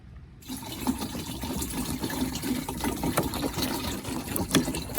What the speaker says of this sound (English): And now I'm going to put the rest of the water in there.